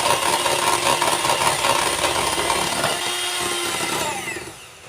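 An electric beater whipping cream for a cake, a loud steady motor whine that holds, then eases off and winds down toward the end.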